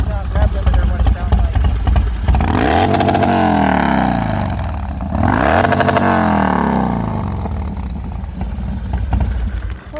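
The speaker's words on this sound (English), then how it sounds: "Let's go ahead and fire the bike up, see how she sounds. I'll show you the rev limiter" A 2000 Harley-Davidson FXDX motorcycle revved hard twice up to its rev limiter, loud and close, each rising engine roar stuttering at the top before falling back toward idle, with a voice heard briefly.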